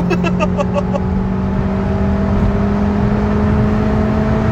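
A car engine revs hard under acceleration, a loud continuous droning whine holding close and steady from inside the vehicle, with no talk.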